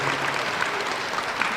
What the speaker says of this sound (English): Once again, big round of applause for our guests.